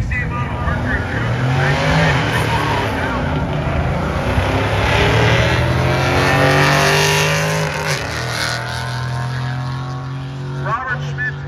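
A 1968 Mercury Coupe drag racing car makes a loud, sustained engine roar that rises and holds, with an announcer talking over it at a dragway.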